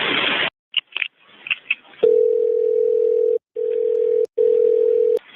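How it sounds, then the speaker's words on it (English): A steady telephone dial tone hums alone during a 911 dispatch call recording, broken by two short gaps near the end, after a few faint clicks and a brief burst of noise at the start. "That's the dial tone."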